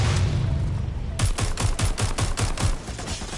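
Rapid bursts of gunfire from a weapon in Watch Dogs Legion, a steady run of about ten sharp shots after a brief lull, loud and close with no talking.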